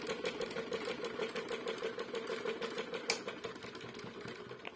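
A toy washing machine tub spinning side to side like a real Hoover, giving a steady, close mechanical whirring hum with a fast rhythmic chatter, like a small motor, running alone with one sharp click near the end.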